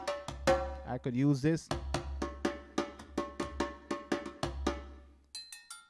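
A West African percussion sample loop plays a dry, evenly spaced pattern of sharp metallic, cowbell-like hits, with a short spoken phrase over the early beats and a few quick faint ticks at the end.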